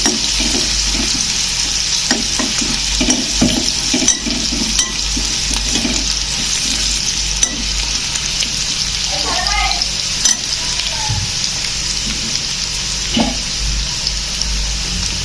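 A bhaji mixture roasting in a hot pan for a Konkani home recipe, with a steady close sizzle throughout and repeated scraping stirs of the spatula, a few louder clinks along the way.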